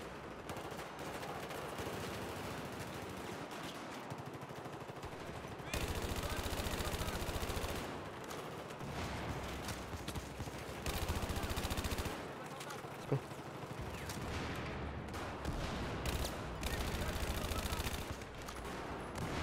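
A carbine firing in a shooter video game, with repeated bursts of rapid gunfire continuing through the clip at a steady, moderately loud level.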